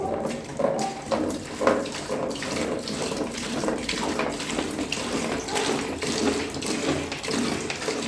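Water pours steadily into a bowl for making bar soap, a continuous splashing and gurgling stream close by, with small fluctuations in flow.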